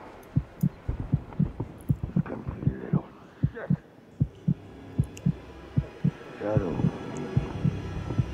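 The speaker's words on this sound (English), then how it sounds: "The heartbeat's still there, so he's there around." Low, thudding heartbeat pulses in The Outlast Trials, repeating at a steady rhythm, with faint murmurs and game ambience behind.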